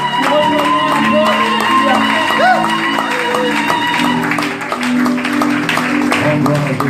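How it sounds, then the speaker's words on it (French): A church congregation at a worship service cheers and claps loudly and continuously over music and singing, with shouts and whoops rising from the crowd. "Acclamons très fort le Seigneur."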